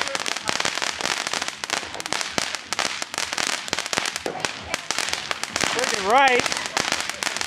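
A $50 pack of consumer fireworks goes off on the Fourth of July in rapid crackling bursts and pops, and a whistling rocket rises near the end. People are heard talking and cheering over the barrage.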